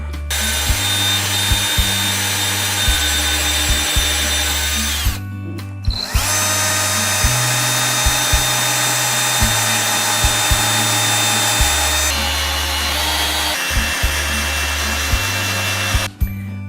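A power drill fitted with a countersink bit bores into pallet wood for a bench's rafter, with long, loud, steady whining runs broken by short pauses and clicks between bursts, close and without any talk.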